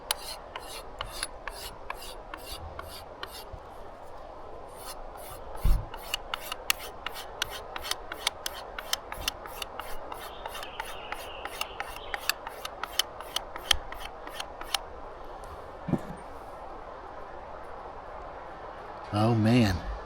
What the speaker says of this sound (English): it doesn't take a lot to sharpen a knife, especially like a stainless steel knife